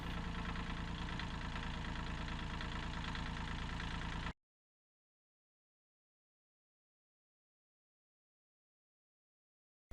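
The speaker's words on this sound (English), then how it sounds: "I'm going to take you on a little ride on the tractor today" A loud, steady tractor engine idles with a low rumbling throb for about four seconds, then cuts to silence.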